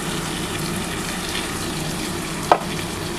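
A masala of onion, tomato and green chilli cooks in a pan just after water is poured in, for a duck egg and potato curry. A steady, dense sizzle bubbles throughout, with one brief sharp clank near the end.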